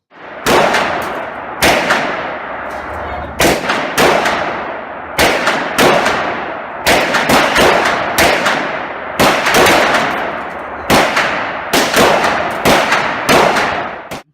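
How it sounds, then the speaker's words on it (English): Sharp pistol shots from an FX9 fired outdoors at a target, roughly a dozen loud cracks spaced about one to two seconds apart in a steady rhythm, each ringing off briefly with no talk between them. "So let's go do some shooting with it."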